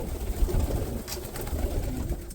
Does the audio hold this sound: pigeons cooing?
yes